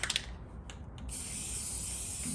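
Spray paint hisses onto a wheel of a Monte Carlo SS G-body: a few quick mechanical clicks first, then a loud, steady aerosol hiss that continues to the end.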